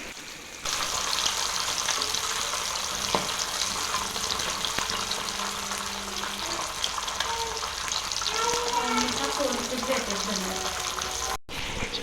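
Steady crackling sizzle of masala-coated fish frying in hot oil, continuous and close, with faint clinks and a muffled voice partway through.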